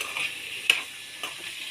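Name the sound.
sweet corn frying and being stirred in a pan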